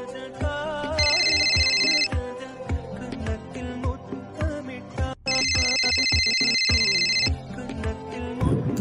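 A phone ringtone plays loud and steady, with a looping electronic melody over a thumping beat and two bright repeated bell-like tone bursts, and no talk over it.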